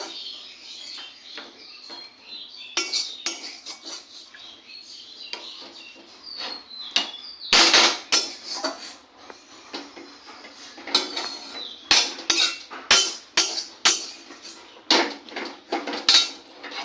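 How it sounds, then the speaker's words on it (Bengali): Cooked greens scooped out of a pan onto a plate, with a series of close metallic scrapes and clinks of spoon against cookware that grow busier and louder toward the end. "শাকটা আমি নামিয়ে নিচ্ছি পাঁচ মিনিট হয়ে গেছে প্লেটে নামিয়ে নিচ্ছি"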